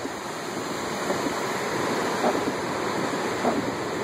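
Ford Explorer Sport SUV driving through deep floodwater on a low-lying New Orleans street after heavy rain, giving a continuous loud rushing, splashing wash of water with no speech.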